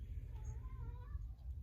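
A pet cat named Simba gives a faint, drawn-out meow or two, quiet against a low background rumble indoors.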